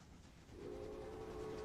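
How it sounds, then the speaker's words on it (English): Passenger trains passing in the Railway Empire video game: a quiet rumble swells, then a steady whistle tone sustains over a continuous rolling train noise. "I'm waiting for this train to get by, because there's our passenger trains are basically blocking this up."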